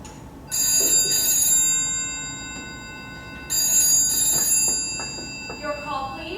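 An old telephone bell rings in two loud bursts of about a second each, separated by a pause, with a voice talking between and after the rings.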